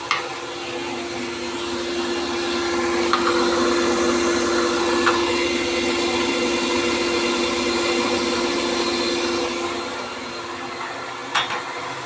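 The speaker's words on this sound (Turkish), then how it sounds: "Tereyağını miksere görev verdik." An electric mixer churning butter whirs steadily and loudly for several seconds, a constant motor drone with a few faint knocks, then eases slightly near the end.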